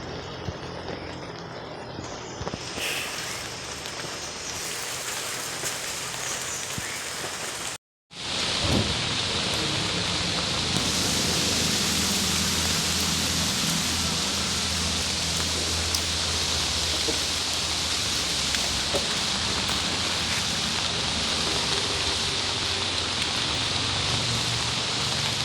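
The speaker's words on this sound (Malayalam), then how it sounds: "അപ്പോൾ നല്ല മഴയായിരുന്നു" Heavy rain pours steadily near a temple, a dense continuous roar that drops out for a moment and then returns even stronger, with low rumbles of thunder underneath and no one talking.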